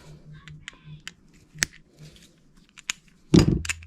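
Metal snips cut bicycle cables during a gravel bike to MTB conversion, giving a few short crisp snaps and clicks against a quiet workshop background, ending with a louder clunk.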